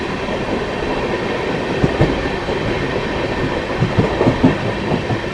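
The 14720 Bikaner–Amritsar Express passenger train runs on rails past Ferozepur City station, with a loud, steady rumble and rhythmic clickety-clack of wheels over rail joints heard from inside.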